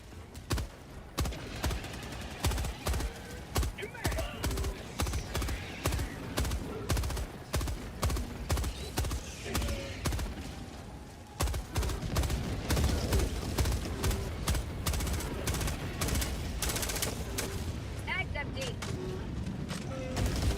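Rapid gunfire in the Helldivers video game, a long run of sharp, evenly spaced shots that speeds into near-continuous automatic fire after a brief pause, loud and close, with someone talking at points.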